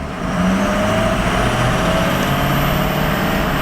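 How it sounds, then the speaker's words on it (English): Ford Excursion Limited with a Power Stroke diesel running steadily up close, a loud continuous low engine drone with a faint whistling turbo whine above it, no talking. "I'm liking the sound of those turbos"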